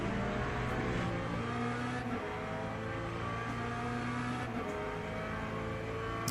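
LMP2 prototype race car engine in a racing sim, a steady high-pitched drone held at constant revs with a few brief gear-shift dips, fairly quiet and continuous.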